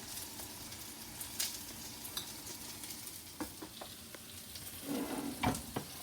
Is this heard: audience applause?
no